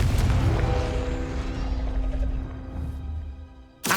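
Confringo fire spell exploding in the Hogwarts Legacy video game: a loud booming blast that rumbles and slowly fades, then a sudden sharp burst right at the end.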